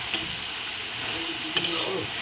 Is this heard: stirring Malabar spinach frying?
yes